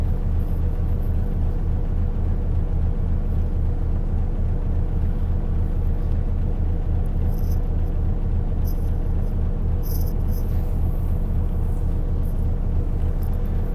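A refurbished Transperth bus idling and crawling in city traffic, heard from inside as a steady low engine rumble and hum throughout, with faint higher clicks and squeaks now and then.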